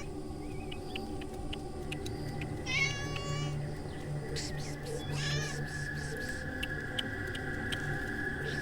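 A tabby cat meows twice, two clear drawn-out cries a few seconds apart heard close over a quiet indoor background, with other faint tonal sounds in between.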